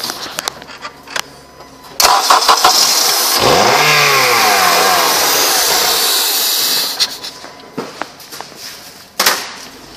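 The engine of a 2007 Honda CR-V revs up loudly and holds a steady roar as the vehicle is put into gear and driven, then drops back toward a quieter idle with a few clunks.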